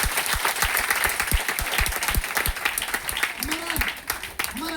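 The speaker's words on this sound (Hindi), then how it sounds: "जोरदार ताली होना चाहिए आप लोग के लिए" Applause from the audience at a DXN business meeting in Patna, a dense steady patter of clapping mixed with shouts and voices, with a man's call rising over the crowd near the end.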